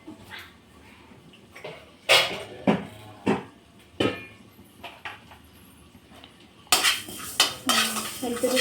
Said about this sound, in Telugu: కొద్దిగా జీలకర్ర వేసుకొని రెండు వేపేసుకోవాలి